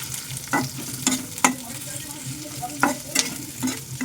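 Small onions for a Mumbai-style mutton curry sizzle in a pan, with a spoon scraping and stirring in sharp, repeated strokes roughly every half second over a soft frying hiss.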